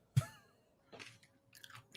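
Someone munching on chips: a sharp close crunch at the start, then a few softer bursts of chewing spread across the moment, with no talking.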